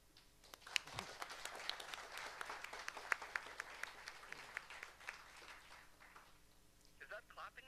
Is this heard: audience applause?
yes